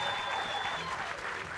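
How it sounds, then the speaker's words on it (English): A forum audience claps for a political panel guest in a steady wash of applause that fills the whole moment and stays fairly even throughout, with no single standout claps. "Give him a round of applause for turning up"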